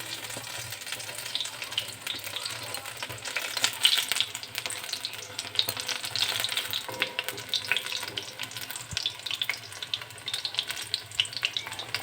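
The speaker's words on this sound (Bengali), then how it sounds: "কুমড়ো ফুলের বড়া করে দিলাম" Pumpkin flower fritters fry in oil in a home kitchen, giving a steady, close crackling sizzle with small pops that carries on without pause.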